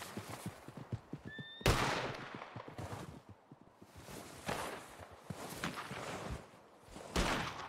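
A horse in the Red Dead Redemption video game whinnies near, with hoofbeats and game effects, including sharp bangs, under a noisy backdrop and no speech.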